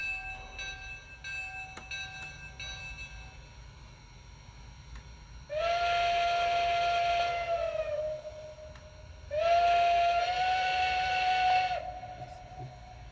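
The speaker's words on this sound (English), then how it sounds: "If you hold it, you get that whistle steam effect right over there." Two long, loud steam-whistle blasts from a Lionel Long Island Railroad 2-8-0 Consolidation model steam locomotive over a soft background hum, with faint clicks before them and no talk.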